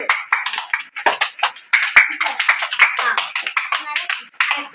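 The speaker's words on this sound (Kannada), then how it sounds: "ಸೆಕೆಂಡ್ ಚಾರುಲತಾ ಚಪ್ಪಾಳೆ ಹೊಡಿದೆ" A group of children claps in scattered bursts while voices chatter over the top.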